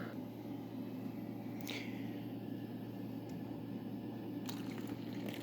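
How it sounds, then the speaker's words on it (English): Hot water poured into the printhead cleaning tray of an HP Officejet Pro X series printer gives a steady, close liquid trickle with no speech, while a continuous low hum runs underneath. "So I'm going to add some hot water."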